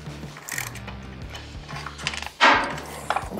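A ratchet wrench turned on a bolt of a 2022 Harley-Davidson Low Rider ST while forward controls are fitted, close clicking pawl strokes in short bursts followed by a louder clunk of the tool.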